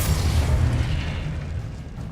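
Confringo spell exploding in Hogwarts Legacy, a loud, deep boom that rumbles and slowly fades over about two seconds, with no voices over it.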